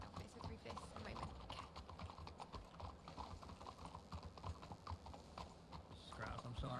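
Hooves clip-clop steadily at a trot under a busy video game soundscape, with a voice speaking faintly in the background.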